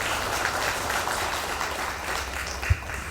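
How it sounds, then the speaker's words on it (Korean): An audience at a community welfare forum in Guro gives a professor a steady round of applause after his lecture, the dense even clapping filling the room at a moderate level with no voices over it. "김영현 교수님께 다시 한번 큰 박수 부탁드리겠습니다."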